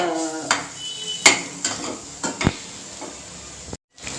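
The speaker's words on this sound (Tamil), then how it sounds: "முட்டையை இப்போ பரட்டி விட்டுக்கலாம்" An egg in a hot pan is stirred and broken up into scrambled egg with a spatula, giving a soft sizzle under several sharp scraping clicks of the utensil against the pan, close and without talk.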